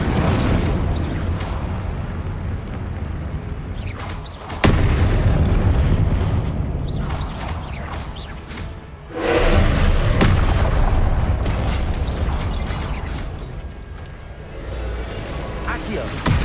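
Confringo blasting-spell explosions in Hogwarts Legacy, heavy booming blasts that burst out amid a constant roar of combat noise, two standing out clearly, while someone talks throughout.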